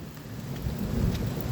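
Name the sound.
thunder during rainstorm in Whaley Bridge, High Peak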